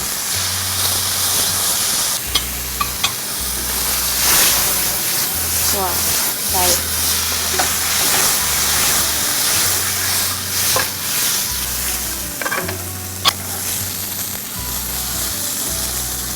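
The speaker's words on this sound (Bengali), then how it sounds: "সামান্য করে একটু অলিভ অয়েল দিয়ে দিব। এখন আমি চিকেনটাকে আলতো করে দিয়ে দিব।" Chicken pieces sizzle and hiss in a pan of olive oil, a steady frying crackle with occasional stirring clatter, heard close up under a low background hum and intermittent speech.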